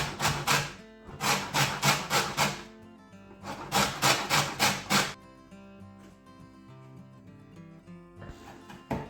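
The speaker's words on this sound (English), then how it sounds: "now we're going to take the zest of 2 lemons." Two lemons are zested on a metal grater in a kitchen, giving bursts of quick rhythmic rasping strokes in three runs separated by pauses. A faint tonal hum sits underneath.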